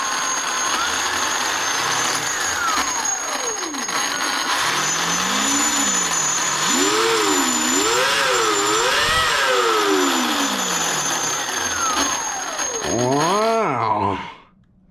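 An Arrma Limitless GT RC car's electric motor runs at half throttle, whining up and down in repeated pitch swells that rise, fall and surge again before cutting off abruptly at the end, loud and close.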